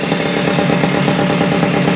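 A Kawasaki F7 Bushwacker motorcycle engine runs steadily and loudly in a garage, cover on and a fan going nearby, giving a continuous rough, rapid-firing drone throughout.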